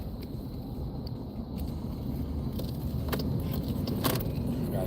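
A car drives through traffic, a steady low road rumble from inside the vehicle with light jingling and ticks on top, fairly quiet overall.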